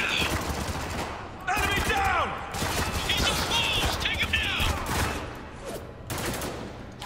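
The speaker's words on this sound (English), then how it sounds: "We're getting shot from everywhere too." Gunfire in Spec Ops: The Line, dense and loud automatic weapon fire from multiple directions with near-continuous bursts and whizzing shots over several seconds, busy battlefield din with voice chatter mixed in.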